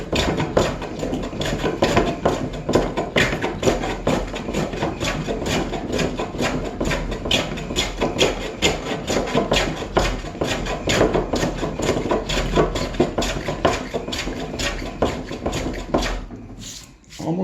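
A hand plane rips across a small wooden counter top to remove tear-out, giving a dense run of rapid, loud, close scraping strokes that continue almost without a break before stopping near the end.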